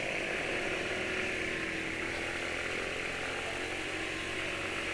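A Suzuki Nex 2 scooter engine held at full throttle while climbing a hill, a steady, droning buzz that stays loud and even throughout with no voices.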